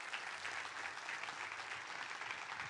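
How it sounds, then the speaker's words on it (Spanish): Church congregation breaking into a continuous round of applause, dense clapping from many hands held at a steady level for a few seconds, heard at a distance in a large room. "Denle un fuerte aplauso a Dios por eso."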